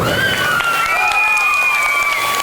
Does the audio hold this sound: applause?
yes